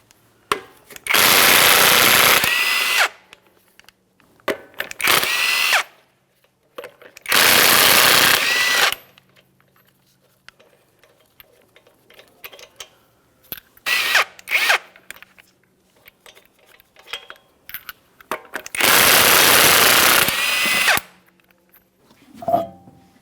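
A power tool spins off the five 22mm lug nuts from the wheel of a 2011-2021 Jeep Grand Cherokee. It comes in several loud, separate bursts of whirring, with quiet gaps filled by small clicks and clanks.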